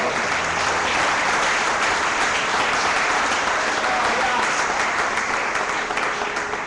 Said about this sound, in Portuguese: Vamos aplaudir mais uma vez ao Senhor